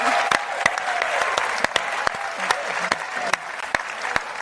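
Audience applause at a political forum: a steady wash of many hands clapping, fairly loud and continuous, with a few sharper individual claps and faint voices mixed in.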